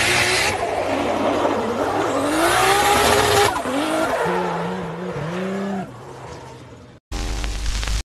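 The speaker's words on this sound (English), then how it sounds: "This car does a wild drift down a winding country road." A car drifts along a winding country road, its tires squealing in long, wavering loud screeches over the rumbling engine, broken by a sudden cut near the end.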